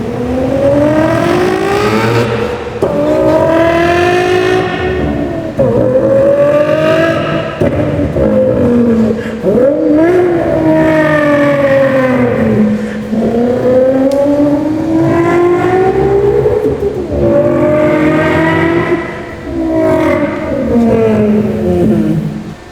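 A voice imitates a VR6 car engine revving, long rising and falling whines repeated loudly, climbing as if shifting through gears, in a parking garage.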